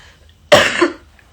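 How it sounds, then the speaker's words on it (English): A single rough throat clearing, a short harsh burst close to the listener, followed by quiet and the start of another sound. "I'm going to clear my throat."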